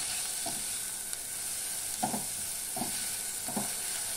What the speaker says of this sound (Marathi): तो परतून घ्यायचा आहे व्यवस्थित।